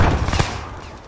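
Video game gunfire in a military campaign match, a quick burst of loud close shots packed into the opening moment and then fading out.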